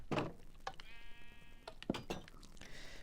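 Sheep bleating in the Minecraft video game, several short bleats close by, with a few soft thunks between them.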